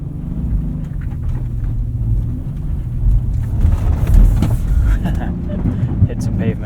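A 2019 Honda Passport Elite AWD drives in sport mode on a winter night, its low steady road and engine rumble swelling slightly, with someone talking over the cabin noise.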